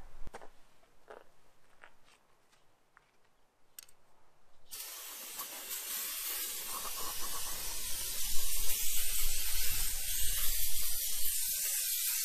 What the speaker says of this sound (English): I'm gonna spray all the mechanics down with some brake cleaner and clean this all up real good first